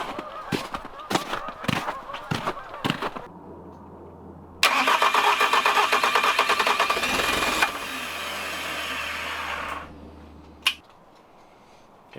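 A few sharp clicks and taps, then a Bobcat engine cranks and fires, running loudly and roughly for several seconds before settling and cutting out.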